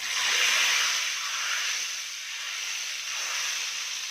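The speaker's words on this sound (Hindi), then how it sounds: "तड़का लगा दिया।" A hot tadka is poured over cooked masoor and chana dal, bursting into a loud, broad sizzling hiss that swells at the start and then settles into a steady steamy fizz with no talk.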